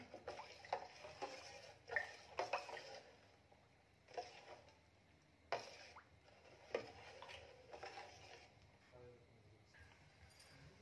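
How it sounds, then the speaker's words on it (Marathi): A whisk stirs finely chopped jaggery into colostrum and milk in a bowl. Soft, irregular clinks and scrapes come in short bursts with quiet gaps between them, heard close up at low volume. "इथे मी विस्कर घेतलेला आहे जेणेकरून गुळामध्ये छान असा मिक्स होईल."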